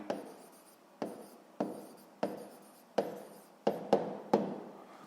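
Pen writing a math answer on paper, a series of about eight short scratchy strokes in an uneven rhythm, each starting with a soft tap and fading quickly, close and quiet with no talking.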